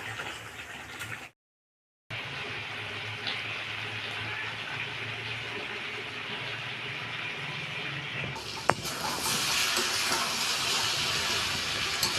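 Mutton sautés in oil for a Bengali kosha curry, giving a dense, continuous loud hiss and sizzle that cuts out briefly near the start and swells louder toward the end.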